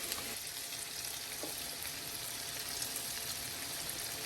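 Salmon cakes fry in a pan with a steady, even sizzle and crackle, moderately quiet and continuous throughout, with no voices.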